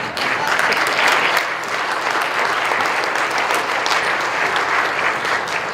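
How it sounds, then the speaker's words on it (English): Audience claps steadily and evenly at an athlete awards ceremony, a continuous wash of many hands that holds at a constant level from start to finish with no voices on top. "we can start the applause right now."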